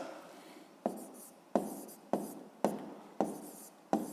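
Pen strokes scratch across paper in quick bursts, about six distinct writing strokes spaced roughly half a second apart, close and fairly quiet with no voices.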